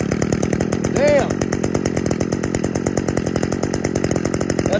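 A brand-new pull-start chainsaw engine idles steadily up close, its rapid, even firing pulses running throughout, with a brief rise in pitch near the start.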